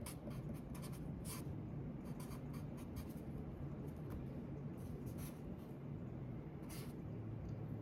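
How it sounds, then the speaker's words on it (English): Handwriting out math problems, steady scratchy strokes of a pen or pencil on paper over a constant background hum, in short repeated bursts. "Here, I'll write it out."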